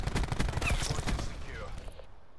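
Rapid gunfire in a competitive first-person shooter game: a dense, loud burst of shots that tails off into quieter game sounds, with excited player voices partly mixed in.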